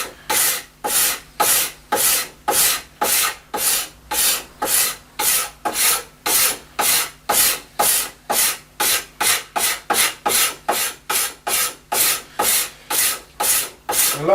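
Lacquer is scraped from a wooden snooker cue shaft in steady, rhythmic strokes, around thirty close rasping passes that quicken slightly toward the end, with no talking.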